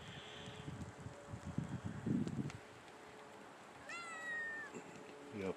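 A cat meows faintly outdoors near a backyard feeding tree, where cats and birds are fed. There are a couple of short, distant calls amid light wind and rustling, after a brief burst of handling noise.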